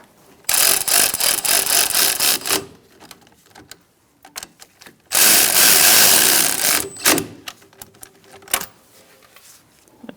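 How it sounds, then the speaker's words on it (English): A hand ratchet snugs front brake bolts on a 2004-2009 Mazda 3, with loud rapid clicking runs in close bursts separated by short pauses and a few single clicks. "All right, we're going to snug those up and torque them after."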